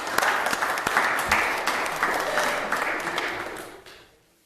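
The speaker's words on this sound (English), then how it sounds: "let's give her a big round of applause" Applause in a city council chamber after a unanimous vote, a full, even round of clapping from the room that holds steady for several seconds and then tapers off.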